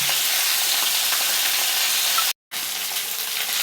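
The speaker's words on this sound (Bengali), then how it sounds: "এগুলো একদম কড়া করে ভেজে নিই।" Fish heads fry until crisp in hot oil in a pan, a dense continuous sizzle close by, cut by a brief moment of silence before the loud crackling resumes.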